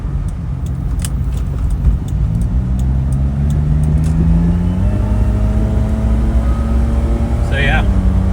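Cabin drone of a Suzuki Jimny pushed hard into a corner, steady engine hum with gear-shift pitch steps, while the driver talks over it.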